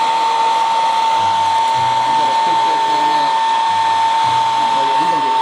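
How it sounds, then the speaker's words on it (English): A blow dryer runs steadily on a Chow Chow puppy during its first bath, a loud, continuous whirring drone that never stops, with a faint voice now and then underneath. "We almost done with the blow dryer."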